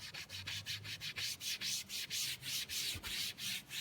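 A rag rubs lacquer thinner residue off a cabinet surface in quick, even back-and-forth strokes, a close, fairly soft scrubbing hiss repeating about three times per second with no talk.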